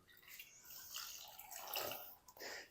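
Water poured into a bowl of semolina mixed with potato paste, a soft close trickling splash that swells and fades over a couple of seconds, with no talking.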